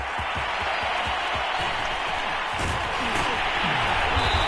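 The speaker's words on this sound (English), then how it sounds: "This crowd is ready as their guys get set to match up between the Brooklyn Beats and the Detroit Lions." A stadium crowd in Madden 22 NFL football, with the Detroit Lions playing, keeps up a steady, dense roar of cheering and applause. A commentator talks over the crowd noise the whole time.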